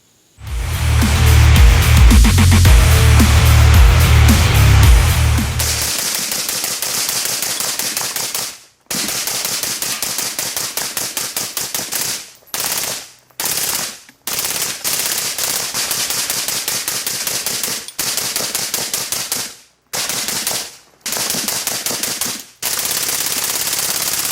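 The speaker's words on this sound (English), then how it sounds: "the burn down is 500 rounds as fast as possible within reason" Rapid gunfire runs through a 500-round burn-down test of a holographic optic, with long strings of fast, loud shots broken by short pauses. A heavier, louder burst opens the sequence.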